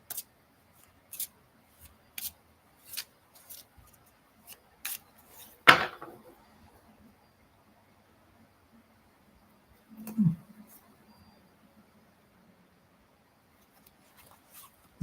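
Tarot cards are handled in a quiet room, giving a string of light, evenly spaced clicks and taps followed by two louder rustling shuffles with silence between them.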